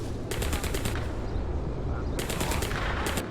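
Sniper gunfire in the World War II stealth tactics game War Mongrels: two bursts of sharp, rapid crackling shots, the first near the start and the second toward the end, over a low steady rumble of background ambience.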